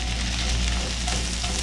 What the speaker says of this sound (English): did you hear that sizzle right there?